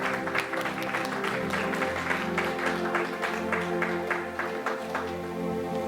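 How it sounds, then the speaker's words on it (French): A church congregation claps for Jesus in steady, continuous applause, loud and close, with many hands keeping a fairly even rhythm throughout. "Clap for Jesus."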